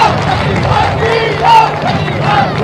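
A large crowd at Kejriwal's oath-taking speech in Delhi roars and cheers in a loud, sustained swell that surges and eases, with shouted voices blending into the mass of noise.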